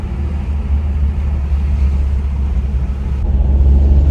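A Toyota 4Runner engine with a suspected blown head gasket runs on the road after a valve adjustment, giving a steady, loud low rumble that swells slightly toward the end.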